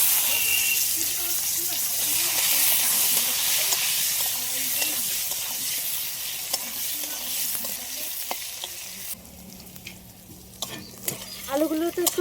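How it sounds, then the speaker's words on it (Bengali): Potatoes fry lightly in a pan for a Bengali fish-head and gourd-stem ghonto, sizzling loudly and steadily with stirring scrapes, then the hiss drops and scattered clatters follow; faint speech may sit underneath. "আলুগুলো তো একটু হালকা করে ভেজে নিয়েছি"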